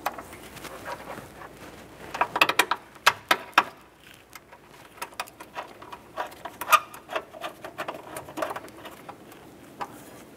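Radiator bolts on a 1993-1997 Ford Ranger being fitted by hand with a ratchet, giving irregular bursts of close metallic clicking and ticking with short pauses between runs.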